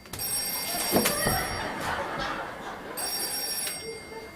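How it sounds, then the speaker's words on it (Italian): A telephone rings in two separate bursts during an Italian stage comedy, its bright, trilling bell fairly loud over some muffled background noise. "Telefono!"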